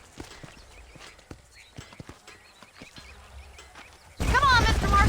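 Horse hooves clip-clop unevenly across dusty ground in the Western video game Red Dead Redemption, faint and mid-distance, before a loud voice abruptly takes over near the end.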